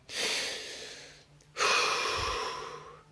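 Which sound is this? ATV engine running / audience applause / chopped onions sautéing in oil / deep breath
deep breath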